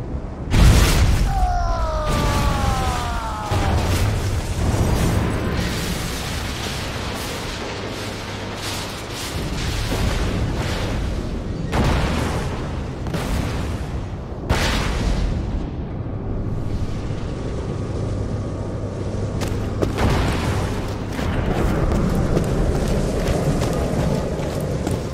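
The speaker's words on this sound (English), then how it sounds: "Commencing lunar bombardment." Lunar bombardment explosions in Borderlands 2, a run of loud booming blasts and bursts spread across the whole stretch, with sweeping tones and sustained rumble between hits.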